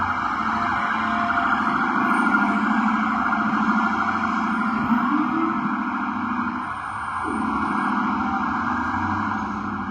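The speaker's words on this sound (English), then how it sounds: "Gridlock traffic. Let them pass." An emergency vehicle siren wails continuously through gridlocked New York traffic, loud and sustained with a brief dip before resuming, over a dense background of idling vehicles.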